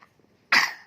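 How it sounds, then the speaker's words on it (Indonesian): A young child gives one short, wet, phlegmy cough, heard close and alone after a brief quiet moment. "Waduh, batuknya berdahak ya"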